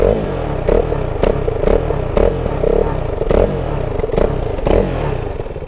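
A KTM RC 390 single-cylinder sport motorcycle revs in a pulsing pattern, with about eight sharp throttle blips in a row over a continuous close, gritty engine drone.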